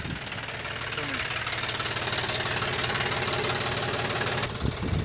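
A tractor engine running steadily on a farm field, with a constant low rumbling drone and a faint knock that holds even and fairly close for several seconds before a few small bumps at the end.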